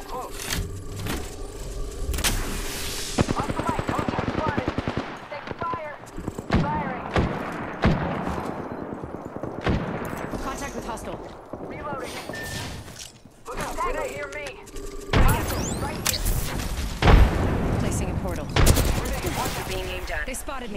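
Repeated volleys of automatic gunfire in the battle royale game Apex Legends, sharp close bursts interrupted by short pauses and a quieter stretch, with a voice speaking intermittently between shots.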